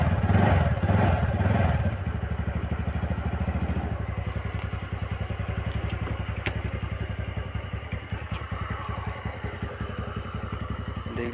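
A TVS Ntorq Race Edition BS6 scooter engine gets a short throttle blip at the start, then settles into a steady, close, rhythmic idle putter that continues to the end.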